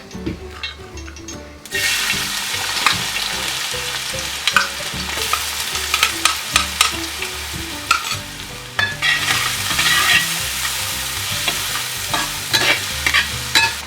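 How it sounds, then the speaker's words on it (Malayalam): Chopped ginger and garlic frying in hot oil for chicken curry: a loud sustained sizzle that erupts after a quiet start, with repeated utensil scrapes and clinks close by. "ഇനി നമുക്കതിലേക്ക് ഇഞ്ചിയും വെളുത്തുള്ളിയും ചോപ്പ് ചെയ്തത് ചേർത്ത് കൊടുക്കാം"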